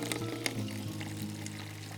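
A vinegar weed-killer mixture is poured through a funnel into a container, giving a steady, close trickling gurgle for about two seconds with a few small splashes and no talk.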